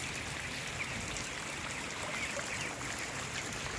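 Artificial rain spray falling inside a broiler chicken shed, a steady close hiss of water with a continuous patter of droplets that holds evenly throughout with no talk.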